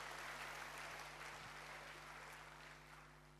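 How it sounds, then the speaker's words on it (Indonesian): A church congregation applauds during a sermon, a dense steady patter of many hands at moderate distance that gently fades toward the end. "Yang mau siap sedia, berikan tepuk tangan bagi Tuhan"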